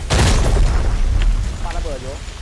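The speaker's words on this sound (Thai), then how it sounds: "โอ้โหระเบิดมา" A heavy, booming video game explosion in Arena Breakout with a rumbling low end, followed by crackling debris and a warbling electronic tone as it dies away.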